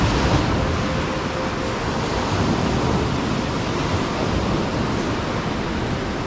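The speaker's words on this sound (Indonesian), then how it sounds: "Ingat di sini ombak cukup besar" Large ocean waves at Pidakan beach in Pacitan, with coral rock and sandy stretches, roaring as a dense, steady wash of surf, loud and continuous with no voices.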